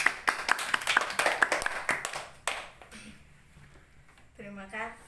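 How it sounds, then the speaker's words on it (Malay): A small group claps at an oma's 68th birthday thanksgiving gathering, brisk close claps for about two and a half seconds that then taper off as a voice begins speaking. "Tepuk tangan dulu."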